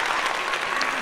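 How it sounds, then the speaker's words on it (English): A short, steady burst of audience applause during a live show interview, continuous and fairly loud throughout its brief length. "let's give a proper applause"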